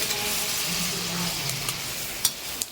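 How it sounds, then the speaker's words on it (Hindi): Chicken pulao masala with ginger-garlic-green chilli paste, curry leaves and coriander powder sizzles steadily in a pressure cooker, a soft continuous fry with a couple of sharp clinks near the end. "और डाल के इसको अच्छे से भूनेंगे"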